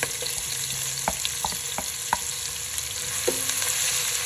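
Chopped onions fry in a pan with whole spices, including whole black pepper, for an egg korma, giving a dense, continuous sizzle close by, with scattered pops and crackles spaced through it.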